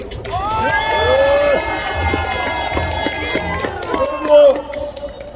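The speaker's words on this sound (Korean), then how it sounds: "큰 함성 부탁드립니다." Crowd at an outdoor political rally outside a courthouse lets out a loud, sustained cheer and shouts, with voices and whoops rising over the first half and continuing under amplified talk.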